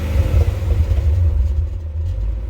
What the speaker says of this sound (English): I reset the code, started the car.